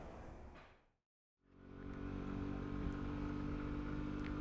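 A Peugeot Django 125cc scooter engine while riding, a steady moderate drone that cuts out briefly near the start, then returns and holds a continuous hum, with no voices.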